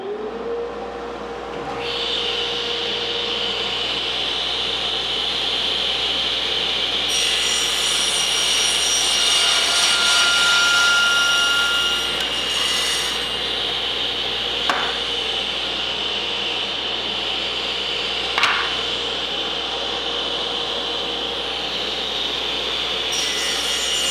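Saw cutting the end of a wooden window piece held in a sled, a sustained whining saw run that rises into a loud cut through the wood, then spins on with brief knocks, steady and close.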